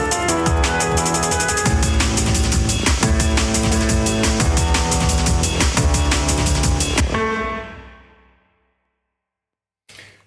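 Fast drum and bass beat with crisp, busy hi-hats and snare over a deep sub bass line, programmed in Logic Pro, playing loud and steady for about seven seconds before fading out.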